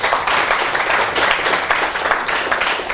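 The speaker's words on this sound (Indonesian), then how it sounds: "Tepuk tangan kawan-kawan sekalian." Steady applause from a gathered audience at a business talk event, dense overlapping claps sustained at an even loudness throughout, with no talking over it.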